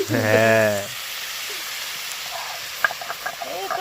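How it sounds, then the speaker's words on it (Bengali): Potatoes and beetroot sizzle steadily in a frying pan in a home kitchen. A voice speaks briefly over the start, then the soft, even frying hiss carries on alone with a few light clicks. "এটাকে ভালো করে ভেজে নিই আলু আর বিট ভাজা হতে হতে"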